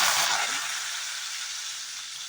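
Curry leaves crackle in hot oil with mustard seeds, cumin and asafoetida for a tempering, a steady loud hiss that eases slightly over time, with no voices.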